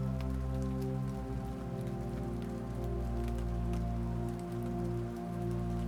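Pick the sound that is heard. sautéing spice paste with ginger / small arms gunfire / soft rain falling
soft rain falling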